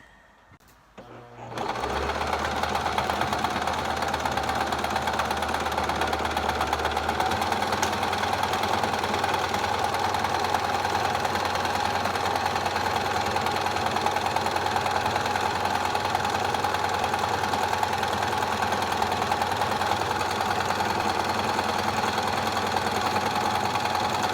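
A sewing machine stitches fabric for a face mask, starting after a brief pause and then running in a steady, close, rapid mechanical whir for over twenty seconds with no talking.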